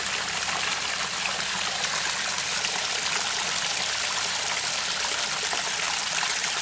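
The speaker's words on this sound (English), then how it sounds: "We have a nice creek that flows out of here, too." A backyard pond's creek and waterfall pour continuously, a steady broadband rush of flowing, trickling water heard close up and alone, with no voices over it.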